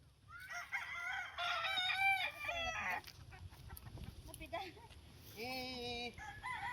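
Chickens cluck and a rooster crows at a farm, several drawn-out crows and squawks, fairly close. Quiet outdoor murmur sits underneath.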